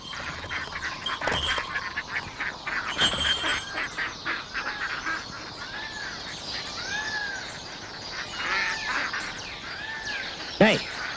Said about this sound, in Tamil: இது வாத்து கூட்டம்